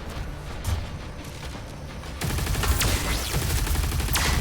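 Overloaded shields burst in an explosion in the video game Doom The Dark Ages, a sudden loud blast that opens into sustained crackling combat noise and rapid gunfire.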